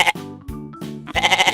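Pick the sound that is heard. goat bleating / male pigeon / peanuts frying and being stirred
goat bleating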